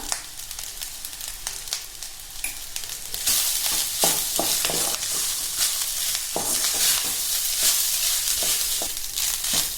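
Garlic pepper rice is stirred in a hot pan with crushed pepper and salt, giving repeated scraping strokes over a steady sizzle that grows louder partway through.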